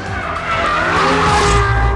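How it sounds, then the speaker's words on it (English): Ferrari F12 Berlinetta oversteering on a race track, its loud V12 roaring close under throttle while the tyres squeal and skid continuously. "Oversteer every time you get on the throttle."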